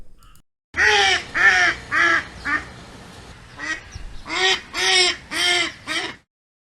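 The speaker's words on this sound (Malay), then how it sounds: "Dan jawapannya sekarang ialah seekor itik" A duck quacks loudly and close up, a series of about nine harsh nasal calls in two bursts with a short pause between.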